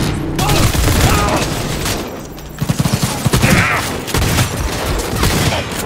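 Gunfire in Cyberpunk 2077 from a shotgun: a cluster of sharp, rapid blasts in the middle, inside a dense, busy game mix with other shots and effects throughout.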